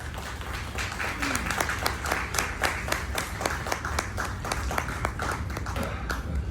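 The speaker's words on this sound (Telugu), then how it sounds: "అందరం ఒకసారి గట్టిగా చప్పట్లు కొడతాం" A gathering at a memorial service claps together, steady rhythmic hand claps with a roughly even beat, moderately loud and close, with a low background hum.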